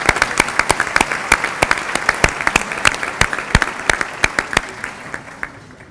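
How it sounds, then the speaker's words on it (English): A room of guests at an awards celebration applauds the gold level sponsors, with loud, distinct claps in a brisk uneven rhythm from a modest crowd, close by and unbroken by talk, thinning toward the end. "Round of applause."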